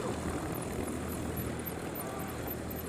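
A Jetstar airliner taxis along the runway at Honolulu, a faint, distant, steady engine roar under wind and broadband hiss.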